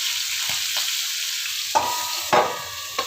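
Fish frying in hot oil, a steady sizzling hiss broken by a few sharp spatters and pops near the end, close and without talk.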